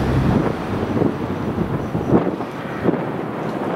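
Wind buffets an outdoor spot on a sunny day, a steady broadband rush with a few stronger gusts rising and falling, close and fairly loud, with no voices.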